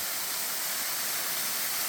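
Buttermilk Falls in Indiana County, Pennsylvania, in winter: a steady, broadband hiss of falling water, even and continuous, with no other sounds.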